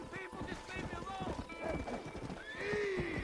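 A horse in the Red Dead video game, with rhythmic hoof clip-clops and a drawn-out whinny near the end, heard under someone talking.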